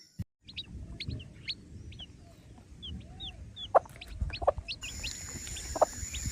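Scattered clucks and short chirps from hens and chicks, fairly close, over a low rumbling background with intermittent sharper calls.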